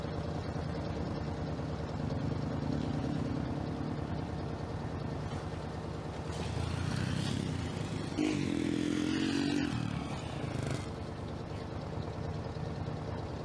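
Nearby, an engine drones steadily as a four-wheeler ATV is ridden around a farm, then swells into a louder revving pass before easing off again.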